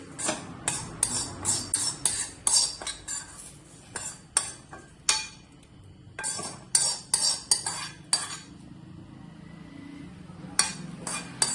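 Metal utensils clink and scrape against a pot and bowl while fried vermicelli (shavige) is transferred, a busy run of sharp, close taps and scrapes with brief pauses.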